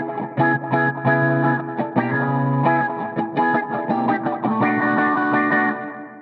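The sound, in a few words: guitar through PolyEffects Beebo pedal with filter effect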